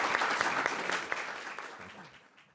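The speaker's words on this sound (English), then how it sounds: "we owe you a round of applause." Audience applause fills a lecture hall at a panel on representative government, a dense patter of clapping that gradually thins and fades over a few seconds.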